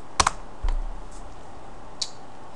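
Keys on a computer keyboard clack as someone types, a quick double tap and then a further keystroke, with two more isolated clicks spread across a quiet room and no voices.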